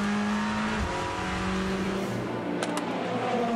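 Race cars at the 6 Hours of Monza endurance race, a steady loud engine drone with pitch shifts as cars pass, sustained throughout with a brief high squeal near the end.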